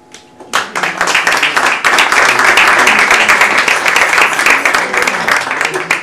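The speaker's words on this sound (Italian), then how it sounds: "Se è possibile un applauso." An audience at a civic meeting on civil unions breaks into applause after a brief quiet start, quickly swelling into loud, close, sustained clapping from many people that stays strong to the end.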